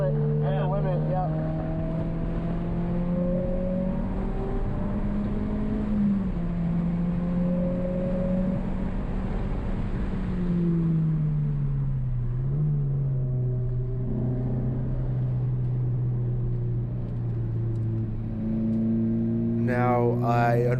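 Subaru BRZ lapping a slick race track, its engine a steady close drone whose pitch climbs, dips and swells again through corners, with a rising rev at the end.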